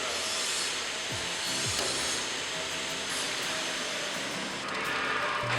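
A bandsaw cuts steel desk leg profiles at a 5-degree angle, making a steady grinding, rasping whine that runs continuously and fairly close, with no talking.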